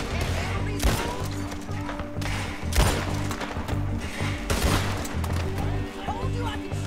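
Gunfire in Red Dead Redemption 2 rings out in several loud sharp shots spaced a second or two apart over a noisy battle background, with voices talking in between.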